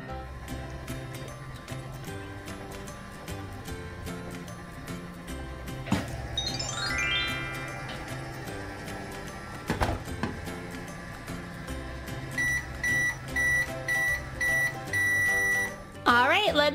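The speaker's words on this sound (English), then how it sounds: "We'll put him in our microwave." A toy microwave oven hums with music-like electronic tones, then gives a run of short, evenly spaced beeps near the end.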